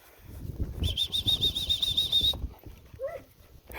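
A puppy catches a live bird outdoors: a burst of rapid wing flapping and scuffling, with a sharp high squeak and small yelps near the end.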